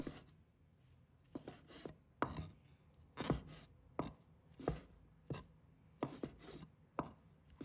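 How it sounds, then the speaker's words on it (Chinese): Knife chopping soaked shiitake mushrooms into small pieces on a cutting board, a dozen or so crisp, irregularly spaced chops, close and fairly quiet, with no talking. "把它切成小块。"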